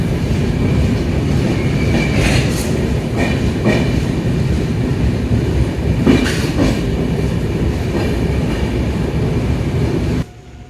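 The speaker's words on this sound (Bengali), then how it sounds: "ট্রেন মালদা টাউন ছেড়ে পরবর্তী স্টেশন কিষানগঞ্জের দিকে এগিয়ে চলেছে" Darjeeling Mail express train running on the tracks after leaving Malda Town toward Kishanganj: a steady, loud rolling rumble with rhythmic wheel clatter and occasional squeal-like bursts, continuous throughout and cutting off near the end, with no talk.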